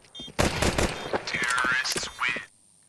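Gunfire in Counter-Strike 2 during a competitive pistol round: a dense burst of loud, rapid shots in the first half, followed by more scattered game sounds and a rising whoosh, then silence.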